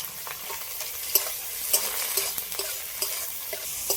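Prawns fry in a pan with turmeric and salt, a steady bright sizzle running throughout, broken by regular scrapes and clacks of stirring every half second or so; no voices.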